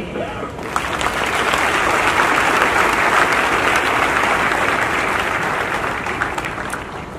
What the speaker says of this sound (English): If you want to clap,